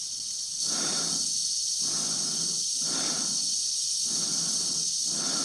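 An astronaut's loud breathing inside a spacesuit helmet in the 1968 film 2001: A Space Odyssey, with slow, regular, heavy breaths over a constant hiss, close and alone.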